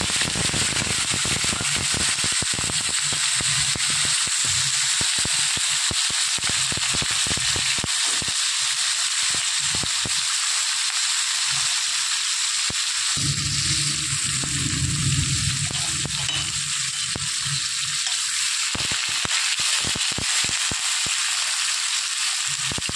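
Chopped onions frying in a pan for an aloo chorchori, a steady bright sizzle with crackling pops throughout, briefly quieter in the low end midway, with no voices.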